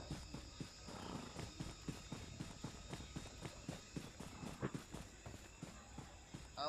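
Horse galloping in the video game BGMI: a fast, regular series of soft hoof thuds running steadily throughout under a faint high hum, with no talking.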